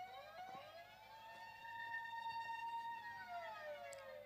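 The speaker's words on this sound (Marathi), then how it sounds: "इथे मात्र सायरन प्ले झालाय" A siren is played at a local cricket tournament match. Its single rising-and-falling electronic wail, rich in harmonics, sounds at moderate distance with no talk over it.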